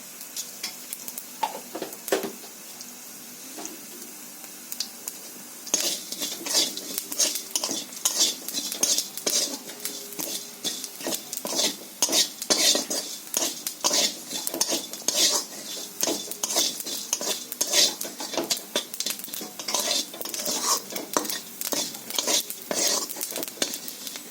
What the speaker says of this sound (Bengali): এখন আমি একটু কড়াইতে তেল দিয়ে নেড়ে নেব